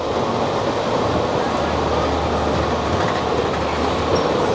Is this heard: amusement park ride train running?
yes